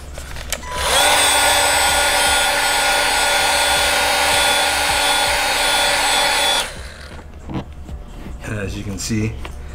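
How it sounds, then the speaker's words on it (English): A heat gun molds vinyl badge skin film onto the lettering of a VW MK2 Tiguan, giving a loud, steady blowing roar for about six seconds before cutting off, followed by a few faint handling noises. "And then you can take a heat gun to it"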